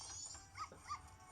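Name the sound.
puppy barking and whimpering in a video game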